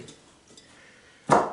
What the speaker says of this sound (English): Might have to cut some more celery.